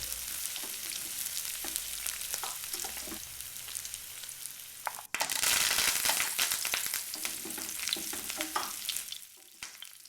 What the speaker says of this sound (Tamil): இஞ்சி பூண்டோட பச்சை வாடை போன உடனே பச்சை மிளகாய், கருவேப்பிலை சேர்த்து வெங்காயத்தை பொன்னிறமாக வதக்கிக்குங்க